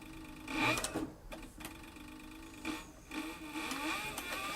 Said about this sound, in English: I like this servo motor because you can just really slow it down and concentrate on sewing right in the groove.